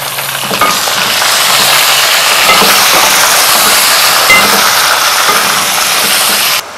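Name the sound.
chicken frying in a pan with onions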